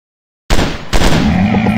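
Gunfire in the video game Commando Strike: a loud, dense burst of rapid automatic shots that starts abruptly and keeps going without a break.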